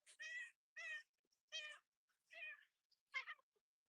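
A pet cat meows five times in short, clear, separate calls with quiet gaps between them, close to the microphone and heard alone.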